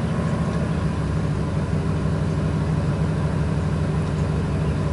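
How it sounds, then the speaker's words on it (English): A 1999 Ford F250 with a 5.4L V8 idles roughly, a continuous low engine rumble with a slightly uneven pulse, close and steady throughout without speech. "Not the smoothest idle I've heard."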